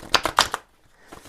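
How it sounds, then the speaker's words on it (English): A deck of color cards is shuffled in a quick run of four crisp, papery bursts at close range, followed by near silence. "Shuffle this deck real quick."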